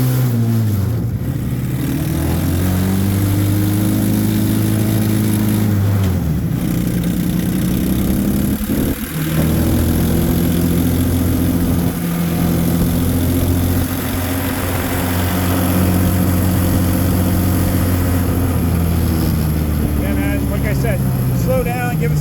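A Massimo Mini Jeep engine drones loud and close for the whole stretch, its pitch sliding as it pulls away and shifts, with a brief dip midway.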